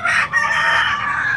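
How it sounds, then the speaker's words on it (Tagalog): A gamecock crows loudly and close by at a cockfighting-rooster sale, one sustained crow filling most of the moment with a brief dip near the start. "Puro 5K po ang mga manok ni Boss Batang"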